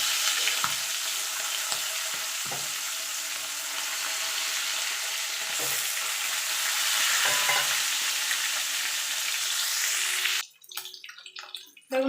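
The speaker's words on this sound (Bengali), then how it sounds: "দিয়ে এবার মাছের মাথাগুলো আমি লাল লাল করে ভেজে নেব" Fish heads frying in oil seasoned with salt and turmeric give a steady, close, loud sizzle that runs for several seconds, then breaks off into a few clinks and scrapes of a utensil.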